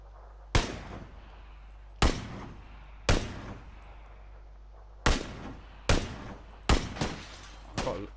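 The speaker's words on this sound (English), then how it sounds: "Shit, he shot someone." Gunshots in the battle royale game PUBG ring out as about eight loud, sharp single reports spaced irregularly over several seconds, each followed by a short echoing decay.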